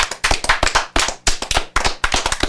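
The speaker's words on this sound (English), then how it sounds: "let's give a round of applause for all our audience that's watching" A small group clapping in a quick, uneven round of applause for a talk show audience, sharp close hand claps in bursts with short gaps, no voices.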